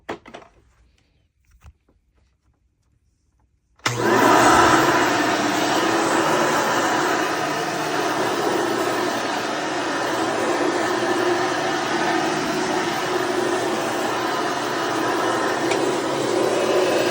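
Hoover Encore Supreme vacuum cleaner, freshly regreased, switched on after a few quiet knocks, then a loud, steady whining motor roar that runs on unbroken, with no voices.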